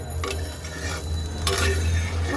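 A spoon stirs katla fish curry gravy with potatoes in a pot, making close, loud wet scraping and sloshing over a low sizzle, with two brief bursts of stirring.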